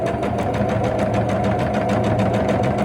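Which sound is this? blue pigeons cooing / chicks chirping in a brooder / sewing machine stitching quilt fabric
sewing machine stitching quilt fabric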